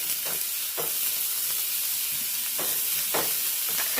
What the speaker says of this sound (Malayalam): ഒരു പാൻ വെച്ചിരിക്കുന്ന ലേശം വെളിച്ചെണ്ണ ഒഴിച്ച് കൊടുത്ത് സവാളയാണ് ഇട്ട് കൊടുക്കുന്നത്